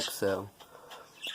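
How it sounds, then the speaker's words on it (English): Birds chirp outside, with a brief bright call near the start and fainter scattered tweets after, heard under a man's speech. "Fucking birds, I swear."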